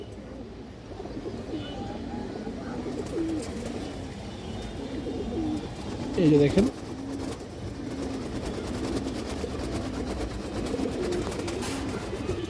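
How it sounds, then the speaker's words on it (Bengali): Pigeons in a loft coo softly and repeatedly, among them a male Silver Bagha with a black tail and ringed eyes. The cooing rises in one louder burst while someone speaks briefly nearby. "একটা সিলভার বাগা নর কবুতর আছে"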